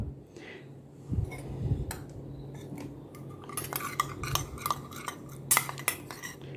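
A spoon clinks and scrapes against a small bowl while stirring a glycerin and oil face mixture, with irregular tapping and clattering strokes, close and fairly quiet, no talking.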